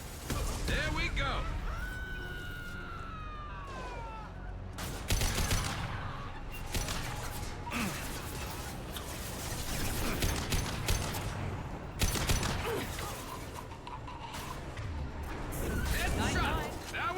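Rapid gunfire bursts from the video game Mass Effect 2 Legendary Edition crackle loudly and repeatedly, with sharp broadband shots clustered throughout, mixed with other game effects and a few brief tonal sweeps.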